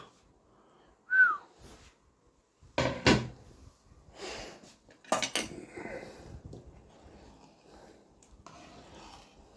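Metal tongs and a large spoon clink against a pot of rabbit civet while it is served, giving a few sharp clatters and scrapes among quieter handling noises, with no talking.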